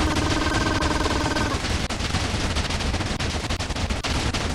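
Futuristic guns fired in a modded Minecraft mini-game, dense rapid bursts of automatic gunfire that continue loudly and without a break, with no talk over them.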